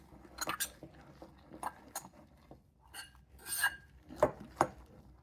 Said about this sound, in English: we'll just keep mixing